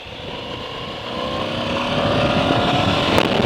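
A Moto Guzzi V85TT motorcycle accelerates steadily through the gears, its engine note rising under strong wind noise that swells louder toward the end.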